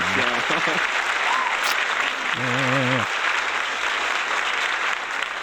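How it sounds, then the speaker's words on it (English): Steady applause fills the whole stretch, a dense wash of clapping, while a voice briefly speaks over it. "Get some clapping."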